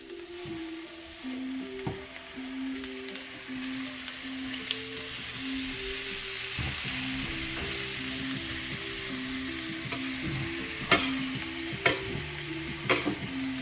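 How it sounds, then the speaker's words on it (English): Peppers and onions fry with breakfast potatoes in a pan, a steady mid-level sizzle under a faint tonal hum, with a few sharp clicks and utensil knocks scattered throughout. "let's put our peppers and onions in"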